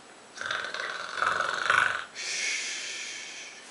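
A bear snoring in its den, two long raspy snores with a rough, rumbling inhale followed by a breathy exhale, loud and close with no talk.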